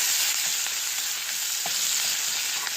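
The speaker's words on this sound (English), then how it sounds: "I'm just going to let that saute up here." Thyme and minced garlic sautéing in butter in a pan, a dense, even sizzle with a few faint pops, close and unbroken.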